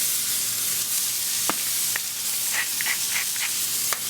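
Beef and Impossible burger patties frying in coconut oil in a pan, a steady close sizzle with a few sharp pops and crackles scattered through it.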